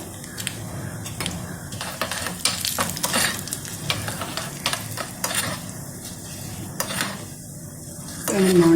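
Spices such as urad dal and a dried red chilli crackle and sizzle steadily in hot coconut oil, with a spoon clicking and scraping against the pan throughout, close by.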